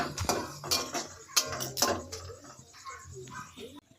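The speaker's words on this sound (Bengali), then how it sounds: "আরেকটা কড়াই দেবো নাকি আলু ভাজার জন্য" Metal cookware clanks and scrapes several times up close, a pan set down and shifted, with faint voices in the background.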